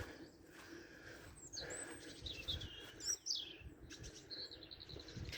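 Wild birds chirp and tweet outdoors near a cabin during stormy weather, with several quick, high calls scattered across a few seconds over a steady background hiss.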